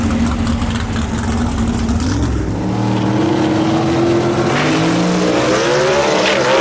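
Drag race at Knoxville Dragway with a 1966 Chevy II running a 477 cubic inch Fulton motor: loud, close engines idle roughly, then rev and rise in pitch as cars launch, alongside other throbbing motors.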